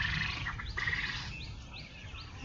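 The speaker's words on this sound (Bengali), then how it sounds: "এক খাঁচায় প্রায় 350 করে কোয়েল পাখি আছে" Quail calling from rooftop cages holding about 350 birds each, with a few short rising chirps over a steady hiss of wind and background noise, no talk.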